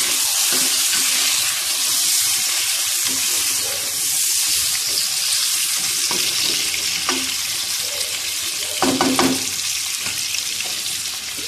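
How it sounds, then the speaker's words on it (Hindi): Chicken tikka chunks frying in a pan over high heat, a steady close hiss of sizzling oil with a few faint clinks near the end. "ज़रा तेज आंच के ऊपर ना फ्राई करूँ, थोड़ा सा ब्राउन करूँ।"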